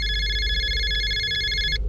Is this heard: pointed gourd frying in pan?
no